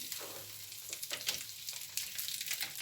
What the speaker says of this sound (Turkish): Ve şimdi biberlerimizi, domatesimizi güzelce pişireceğim.